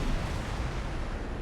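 Pulse turrets firing in a space combat video game, a dense continuous roar of rapid blasts, loud and close, with no talking.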